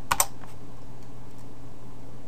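A computer keyboard is typed on for a Heroku keys:add command: two quick close key clicks at the very start, then only faint steady room hum, with no talking.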